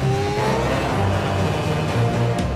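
Simulated race car lapping the Bahrain circuit in a racing simulator game, a steady loud engine drone with shifting pitch held throughout, no voices.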